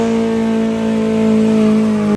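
A 700-horsepower go-kart holds a loud, steady high-revving engine drone during a burnout, sustained at full throttle before cutting off abruptly at the end.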